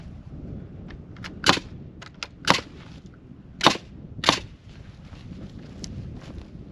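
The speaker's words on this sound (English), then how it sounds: "I'm using galvanized ring shank nails, so it's not just regular nails in my nail gun." Nail gun driving galvanized ring shank nails into a greenhouse floor, four sharp, loud bangs spaced about a second apart over faint background noise, with no talking.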